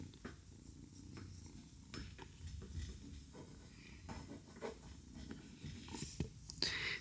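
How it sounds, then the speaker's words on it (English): A small toothbrush strokes through a rescue kitten's fur in soft, close, repeated scratchy brushing sounds, with a quiet purr underneath and no talking. "She loves this brush. Little toothbrush."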